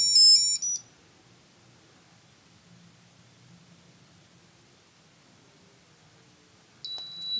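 A Steelmate I880 locator tag rings in short bright beeping bursts, one at the start and another at the end, with a quiet low hum between them.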